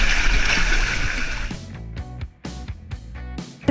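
A hiker plunges into water in a narrow Zion canyon on the Subway top-down route: a loud rushing splash at first, then a series of sharper sloshing splashes and drips echoing close by.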